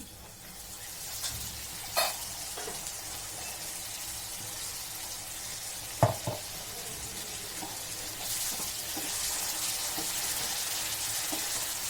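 A quiet, steady sizzle of spiced water hitting a hot frying pan, with a couple of faint clinks and the hiss swelling slightly toward the end.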